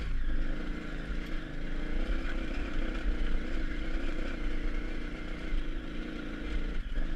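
A 950 dirt motorcycle engine labours steadily uphill at altitude, jetted for lower ground, a continuous close, loud droning rumble with a bouncing, rough tone throughout, no talking.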